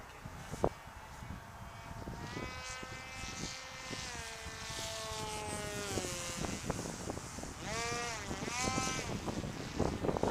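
Giant foam F-22 RC plane flying in heavy wind, its electric motor whining with rising and falling pitch over steady, loud gusting wind noise across the whole stretch.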